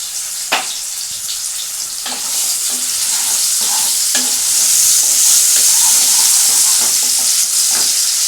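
Cumin seeds fry in hot oil for jeera rice, a bright, continuous hissing sizzle that swells slightly louder, broken by a few stirring clacks and scrapes, with no one talking.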